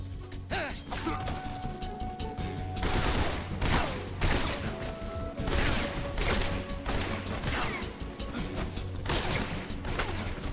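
Gunfire in the stealth action game Metal Gear Solid Delta: Snake Eater, a dense run of loud, repeated shots and impacts that keeps going for most of the stretch, with a sustained tone and a few brief voices mixed in.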